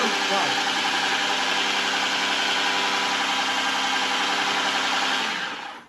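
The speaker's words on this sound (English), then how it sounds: "start breaking the fish down and getting it all nicely blended up" A loud, steady whirring motor of a food processor blending fish, churning continuously, then winding down and stopping at the end.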